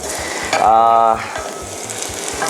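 Onions frying in oil for a tomato pasta sauce, a steady close sizzle with a brief louder hiss and a few stirring scrapes and clinks, no talk.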